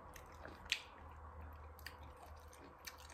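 Garlic flower stalks crunched in close, wet chewing, with a few sharp crisp bites standing out over soft mouth sounds and no talking.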